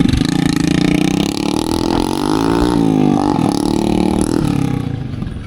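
A loud tractor engine rumbling close by on a rural road, its pitch dipping and rising as it passes and then slowly fades.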